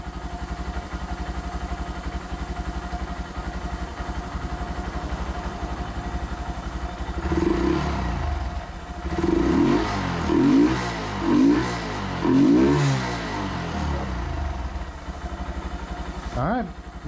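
A Honda Monkey motorcycle engine runs after a new fuel pump install, holding a steady low idle and then revving in several short bursts mid-clip before settling back to idle.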